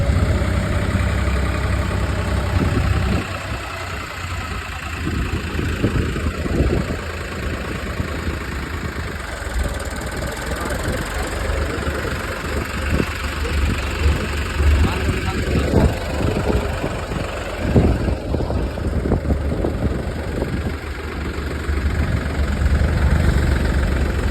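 A tractor engine idles close by with a steady low rumble and throb that continues throughout, while voices come and go over it now and then.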